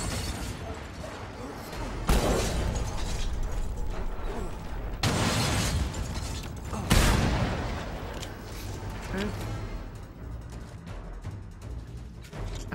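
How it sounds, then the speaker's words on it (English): Explosions blast in the Mad Max video game during a Gutgash mission, three sharp loud bursts spaced a few seconds apart over a dense, rumbling game soundscape with mechanical clatter. "Gonna blow this up."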